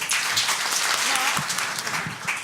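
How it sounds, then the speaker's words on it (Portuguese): Audience applause at a water forum session, a dense continuous patter of many hands clapping at fairly loud level, with a faint voice briefly underneath. "Quando eu fizer assim com a mão, vocês dão uma salva de palmas"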